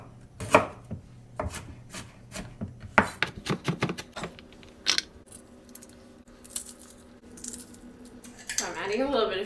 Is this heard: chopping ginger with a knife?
yes